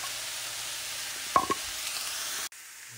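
A buttered pan holds omelette mixture with corn, and it is stirred; a steady sizzling hiss runs throughout, broken by a couple of brief scrapes or clicks of the utensil midway before the sound drops off abruptly near the end.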